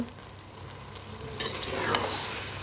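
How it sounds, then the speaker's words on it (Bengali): Khichuri of washed rice and lentils is stirred in a pot, making a close, soft scraping and sloshing that grows louder and busier partway through over a low hiss, with no talking. "এখন ভালো করে মিশিয়ে নেব"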